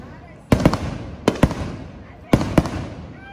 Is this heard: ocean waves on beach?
no